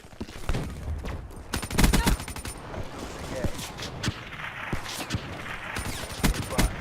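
Rapid bursts of automatic gunfire and single shots crack close and loud through a Call of Duty: Black Ops 3 Domination match, layered over busy in-game noise.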